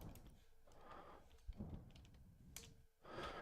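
Quiet typing on a computer keyboard while coding a game engine, a few faint bursts of key taps separated by short gaps, low in level.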